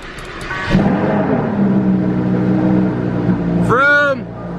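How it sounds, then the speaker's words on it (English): A Lamborghini Huracan starts cold, its engine catching with a sudden roar, settling into a loud high idle, then blipping in a sharp rev near the end; a voice is heard briefly at the start. "Cold start in the Huracan."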